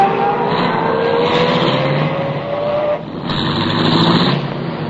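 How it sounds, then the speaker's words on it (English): A car starts and pulls away from the curb in a radio drama, its engine droning steadily and rising in pitch, then briefly dipping before an even broader rumble resumes. "I started the car, and the moment I pulled away from the curb, I had company again."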